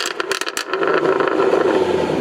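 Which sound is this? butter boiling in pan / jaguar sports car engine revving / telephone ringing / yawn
jaguar sports car engine revving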